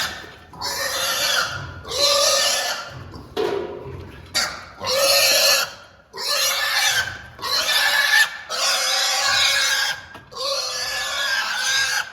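Loud, repeated squealing and grunting of 10-week-old piglets being caught, in bursts with brief pauses, close by and frantic.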